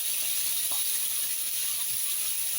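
White meat fat heats in a pan, giving a steady, even sizzling hiss throughout with faint stirring scrapes beneath, fairly close and without talk.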